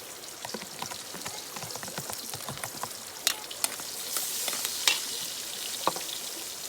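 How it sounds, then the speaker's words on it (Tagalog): Garlic and onion sauté in a pan while cooking outdoors by a river, giving a soft, continuous sizzle with scattered crackles and pops at moderate distance. "Sunod naman ay nagisa na nga kami ng bawang at na sibuyas."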